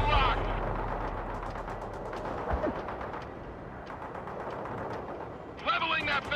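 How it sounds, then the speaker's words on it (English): Gunfire in the video game World in Conflict, rapid repeated bursts of automatic fire with distant explosions forming a steady battle din, mixed with game voices. "Firing at hostiles!"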